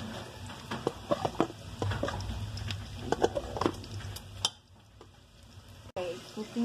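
Garlic goes into a pan for scalloped potatoes with soft sizzling and stirring, light scrapes and clinks of a utensil against the pan, then a quieter stretch before the pan noise picks up again.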